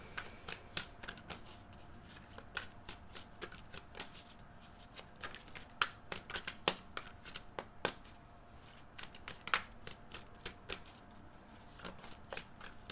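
Tarot cards shuffled and drawn, heard as steady quiet riffling with frequent crisp card flicks and slaps throughout, close by, with no talking.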